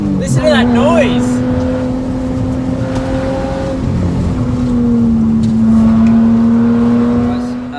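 A Subaru Liberty H6 sedan climbs a winding mountain road, its six-cylinder engine droning steadily and rising in pitch as it revs through gears, heard close and loud from inside the car.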